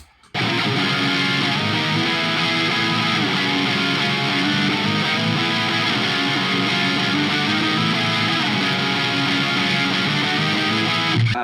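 Electric guitar running through DS1 clone and Mayflower pedals bursts in after a brief silence and rings on as a dense, howling wall of distorted feedback, loud and unbroken to the end.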